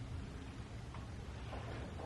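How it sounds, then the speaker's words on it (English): Steady rain falls outside, a dense continuous hiss with low rumbling underneath, holding at a constant moderate level throughout. "It's raining a lot."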